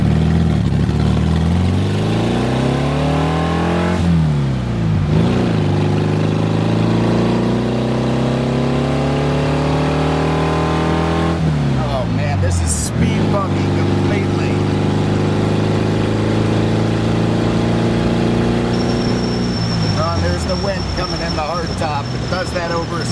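Myers Manx dune buggy engine pulling through traffic, loud and close, revving up through several gears with rising pitch sweeps and brief drops between shifts, steady throughout with talk over it.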